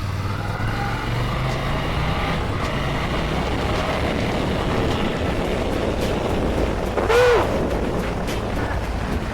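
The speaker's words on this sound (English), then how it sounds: "wind noise from that little, me going, 50 miles per hour maybe" Steady, loud rushing wind noise roaring inside an Arai Concept-X motorcycle helmet at about 50 mph in New York City, with engine drone underneath and a brief tonal whine near the end.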